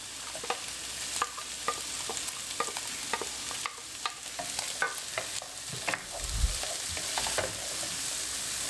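Onion and pepper fry in a saucepan with a low, continuous sizzle, punctuated by regular scraping stirs and taps of a utensil against the pan, fairly quiet and close.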